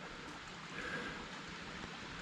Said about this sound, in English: There we are, Devil's Hollow Falls.